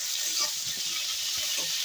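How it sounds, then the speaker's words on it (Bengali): Garlic and onion frying in a pan for a Bengali greens dish, sizzling in a steady, close hiss with faint stirring scrapes underneath. "রসুনটা একটু ভাজা হয়ে গেছে, এইবার আমি পেঁয়াজ দেবো।"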